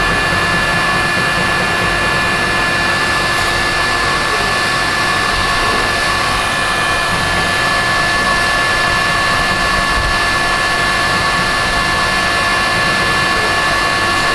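Heat gun blowing on a plastic case, a loud, constant close-up roar of the blower with a faint high whine, steady and unbroken throughout with no speech.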